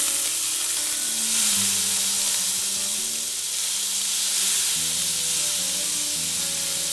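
Scallops sizzle and fry steadily in a hot pan, a continuous loud hiss with faint shifts as tongs turn them over, no voices.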